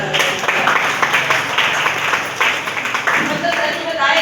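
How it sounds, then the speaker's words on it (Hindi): Audience applause rising in scattered bursts of clapping, moderately loud and steady over about four seconds, with a murmur of voices mixed in. "इसके लिए जबरदस्त ताली।"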